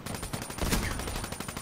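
Shotgun fire in the Dirty Bomb video game, a dense burst of loud overlapping blasts with the strongest shot near the middle of the short clip, heard alone without talk.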